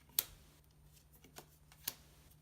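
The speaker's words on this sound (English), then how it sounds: "you flip over 5 cards from the deck" Cards for the One Deck Dungeon board game are flipped over from the deck, giving three quiet, sharp snaps spaced apart against a faint low hum in a quiet room.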